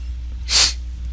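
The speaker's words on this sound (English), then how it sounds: "Excuse my sniffles." A single short, breathy sniff rushes up and fades within about a second, close and fairly loud against a low steady hum.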